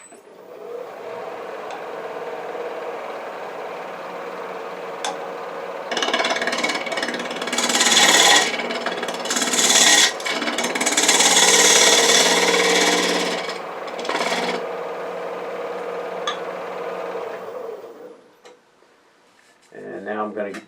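A wood lathe chamfers the edge of a shop stool seat, the tool scraping and rasping against the spinning wood in loud uneven bursts that swell and fade over several passes, with a low motor hum beneath and quieter stretches at either end.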